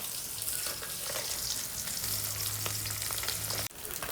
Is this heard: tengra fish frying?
yes